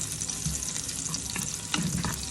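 Garlic fries in a pan for a beef stir fry, giving a steady close sizzle with scattered crackles and stirring scrapes throughout.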